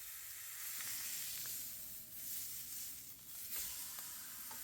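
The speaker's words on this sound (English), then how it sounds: "heat up a pan real hot. Add the turkey breast, skin side down first" A turkey breast sears skin side down in a very hot pan, giving a faint, steady sizzle and hiss with a few small pops, quiet and close with no voices.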